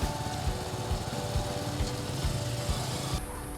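A Boxer 125 motorcycle engine thrums steadily with a regular low pulsing beat while the bike is ridden on sand. The sound is constant and moderately distant, with a broad hiss layered over the rumble.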